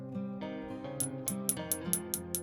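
A series of bright, ringing glassy taps on a DY86 TV vacuum tube with good vacuum, about seven evenly spaced strikes, each with a short shimmering decay over a steady low hum.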